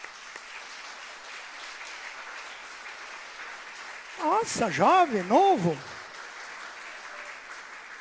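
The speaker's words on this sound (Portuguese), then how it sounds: "vamos recebê-lo com uma salva de palmas." An audience at the 64th Catholic congress applauds a priest with a steady, rain-like patter of clapping, fairly soft throughout, while someone talks loudly for a couple of seconds mid-way.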